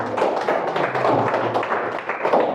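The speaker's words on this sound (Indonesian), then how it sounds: "Oke, kalau nggak ada, tepuk tangan buat Bunga" Students clap after a classroom marketing presentation, a dense, steady patter of many hands blending into a continuous wash of applause, fairly loud and close.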